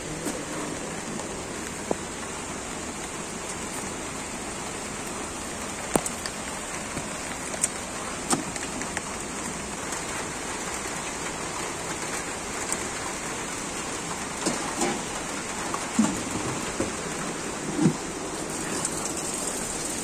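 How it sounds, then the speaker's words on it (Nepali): Light rain drizzles steadily around a rainbow trout fish farm house in hilly Nuwakot, a soft, even hiss with scattered faint drop ticks throughout and no voices. "पानी सिमसिमै पानी पर्यो फेरि पनि"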